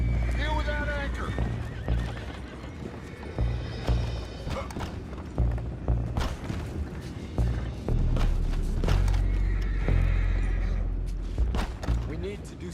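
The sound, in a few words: horses neighing in video game Red Dead Redemption 2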